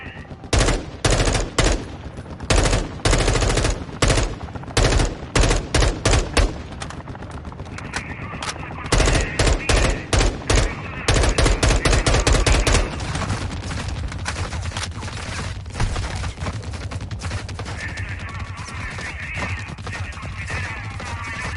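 Gunfire in Call of Duty Warzone 2.0 DMZ, with loud repeated bursts of automatic shots, rapid cracks clustered through the first half, then sparser firing over a steady background din.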